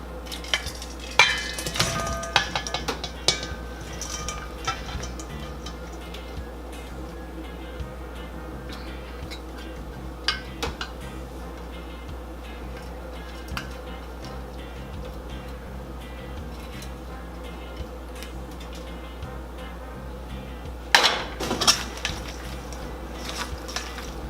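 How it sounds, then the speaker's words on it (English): Pepper shrimp for a Jamaican hot pepper shrimp dish tipped from a pot into a steel bowl, with scattered metallic clinks and scrapes over a low steady hum, and a louder clatter near the end. "now I'm gonna transfer everything from the pot into that steel bowl"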